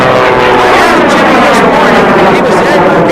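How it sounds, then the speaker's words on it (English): A loud, steady roar of the jet engine on a jet-powered Waco aerobatic biplane fills the whole stretch, harsh and continuous with slight wavering, close and dominant. "listen to that jet"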